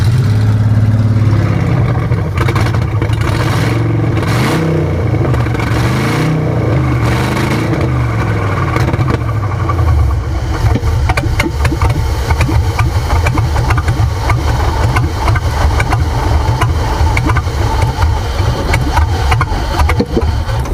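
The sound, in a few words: Ford Maverick with swapped 302 EFI engine revving and idling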